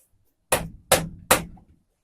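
A Mazda mini truck's front bumper is shaken loose by hand, giving three sharp, evenly spaced metallic clunks close by with no talk.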